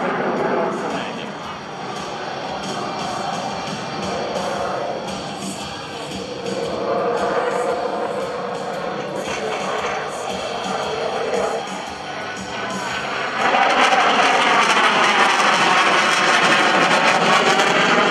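An F/A-18C Hornet jet on landing approach at an airshow in Portsmouth, its engine roar swelling and easing as power is adjusted, distant then louder near the end, under a narrator's talk.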